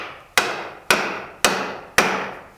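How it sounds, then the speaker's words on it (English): A hammer pounds a wooden wedge into a wooden vise to clamp a board, landing four sharp, evenly spaced blows about half a second apart, each ringing briefly before the next. "Let's go ahead and pound it."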